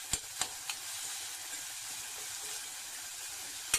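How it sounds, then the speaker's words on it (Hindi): Green chili and onion paste with turmeric and red chili powder frying in oil, a steady soft sizzle with a few sharp utensil taps near the start and end. "मैं इसको अच्छे से फ्राई करूंगी"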